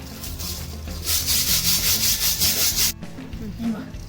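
Urad dal ground on a traditional stone hand mill, giving a loud close grinding rasp that swells and eases in a regular rotating rhythm before cutting off abruptly.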